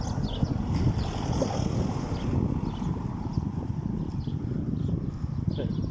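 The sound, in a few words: wind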